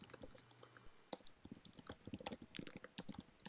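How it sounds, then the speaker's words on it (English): Rapid typing on a computer keyboard, heard faint and a little distant, with dense irregular clicks that grow busier after a quiet start. "I hear furious typing"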